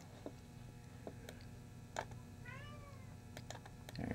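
A house cat gives a single short, faint meow partway through, heard over a quiet room with scattered keyboard clicks and light tapping, and no one speaks.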